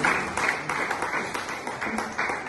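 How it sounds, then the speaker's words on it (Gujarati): Crowd clapping fills the clip, a dense steady patter of many hands from an audience at a state-level gathering, fairly loud and continuous. "જોરદાર તાળીના ગુંજારાઓથી આપણે એમનું સ્વાગત કરીશું"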